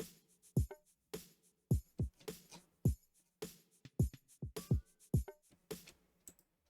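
A percussion beat of bongo, shaker, tambourine, ride and snare played together, crisp hits in a steady loose rhythm with short ringing tails, close and clear.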